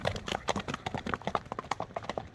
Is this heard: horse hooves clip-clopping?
yes